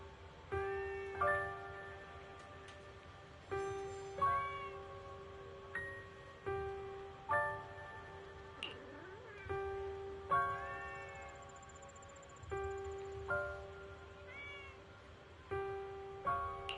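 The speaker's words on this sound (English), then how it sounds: "Oh, there's a cat over there." A cat in Zenless Zone Zero meows repeatedly, about a dozen short, tonal mews spaced a second or two apart, fairly close and distinct against a quiet background with no talk.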